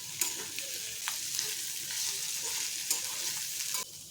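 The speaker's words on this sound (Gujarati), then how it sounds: "બધું જ આપણે સારી રીતે મિક્સ કરી લઈશું" Garam masala and coriander-cumin powder are stirred into spiny gourd (kantola) sabzi in a pan, with a soft continuous sizzle broken by scattered scraping clicks of the spoon, heard alone.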